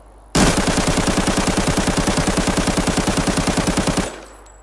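A long, unbroken burst of rapid automatic fire from a 5.45 rifle in the shooter game Arena Breakout, loud and close, rattling steadily for almost four seconds before cutting off with a short echoing tail.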